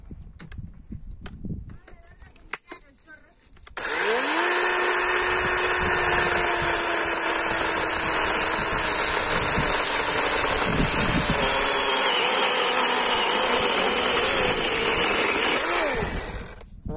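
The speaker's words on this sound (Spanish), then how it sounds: "voy a ir directamente a pasar la motosierra, tratando de ir siempre lo más recto posible" Chainsaw running at full throttle as it cuts along a wooden beam during house construction, loud and steady for over twelve seconds after a few quieter knocks and handling sounds.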